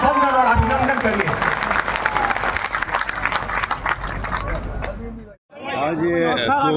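A crowd at a Parivartan Sankalp political rally in Rewa claps to welcome a politician, sustained applause mixed with amplified voices, breaking off briefly near the end before a speaker resumes talking.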